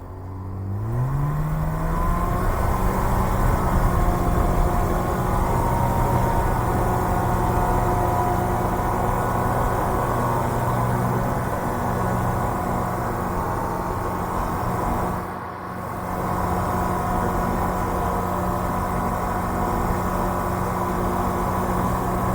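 Steady, loud drone of a Viking 150 light airplane engine fitted to a RANS experimental aircraft in flight, its pitch rising briefly at the start, then holding a constant hum with one short dip.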